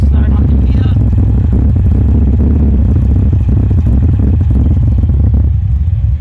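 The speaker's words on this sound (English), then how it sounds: "That's her 408 W2 build. Nothing over the top, a bit rough around the edges. Bit of the exhaust note under here." A Valiant VH Charger with a slightly rough 408 W2 V8 idles with a loud, steady, deep exhaust rumble and faint clatter, heard up close with no break.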